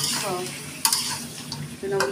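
Meat fries lightly in oil in a pan for a biryani, with a low steady sizzle and a few near scrapes and clinks of stirring across a couple of seconds.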